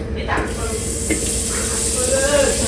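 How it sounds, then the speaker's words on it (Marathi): Maggi noodles put on to boil give off a steady, close hiss that runs unbroken throughout, with a voice speaking over it. "आता मॅगी उकलत ठेवली"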